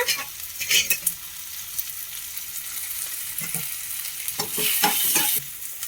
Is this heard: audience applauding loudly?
no